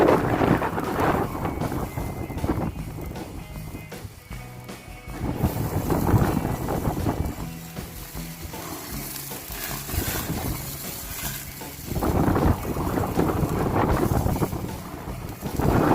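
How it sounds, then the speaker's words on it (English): Strong wind gusts buffet the microphone in surging waves, rising and falling with roaring rumbles outdoors, no voices. "Can you hear the wind, guys? It's so windy today."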